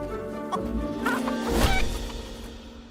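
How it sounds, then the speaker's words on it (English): In the Fable video game, chickens squawk and cluck as they are kicked around, short flustered cries over game music and ambience. "It's just kicking chickens around."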